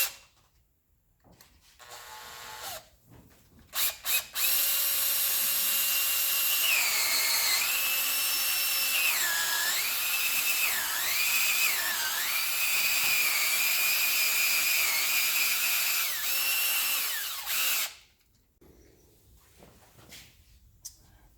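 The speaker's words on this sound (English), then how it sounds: "Now we're ready to drill that first hole." A power drill whines loudly for about thirteen seconds, its pitch dipping and rising as it bites into the metal engine block of a 2004 BMW X5 M54, preceded and followed by quiet handling.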